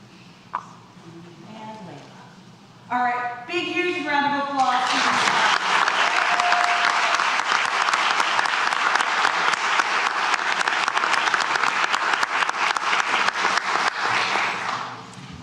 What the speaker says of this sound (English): All right, big, huge round of applause.